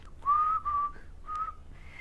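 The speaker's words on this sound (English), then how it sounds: "Felix, I nearly lost my whistle there again." A whistle sounds a short run of clear, high tonal notes, two longer held tones, then a brief rising one and a softer trailing note, close and fairly quiet, with no talking.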